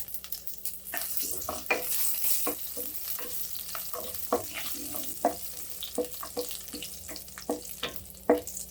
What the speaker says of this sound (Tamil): சோம்பு பொரியட்டும் சோம்பு பொரிஞ்சதுக்கப்புறம் நாலு லவங்கம் ஒரு துண்டு பட்டை